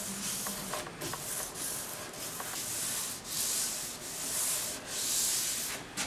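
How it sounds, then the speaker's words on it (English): Rhythmic hand sanding scrapes back and forth across a wooden coffee tabletop, a close, steady rasping that swells with each stroke. "We don't have to do a whole lot of sanding, we're just giving it some tooth."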